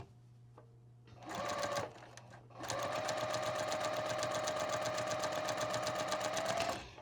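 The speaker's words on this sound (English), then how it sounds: "and I'm sewing them together." A sewing machine stitches log cabin quilt squares together, with a short run, a brief pause, then a long, steady, loud whirring stretch of stitching before it stops.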